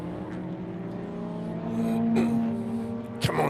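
Classic race cars, a Peugeot among them, rounding a hairpin on a circuit: a steady engine drone that swells as the cars pass, with a sharp, loud rasp near the end.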